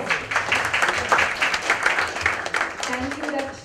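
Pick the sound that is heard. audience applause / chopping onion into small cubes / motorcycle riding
audience applause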